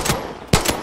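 A weak gun in the video game Far Cry 6 fires a quick burst of several sharp, close shots, with no talking over them.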